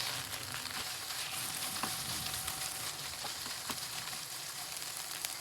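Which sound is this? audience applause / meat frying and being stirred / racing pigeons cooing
meat frying and being stirred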